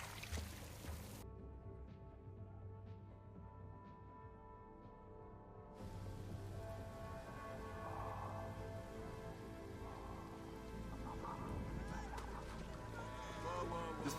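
Rain falls steadily on surfaces in a moody sci-fi planet scene from the Andor series, a soft constant hiss with faint tonal music and ambience beneath, no talking.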